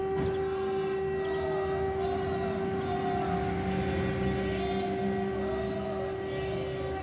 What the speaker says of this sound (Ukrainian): сушиться на моєму робочому столі під звуки повітряної тривоги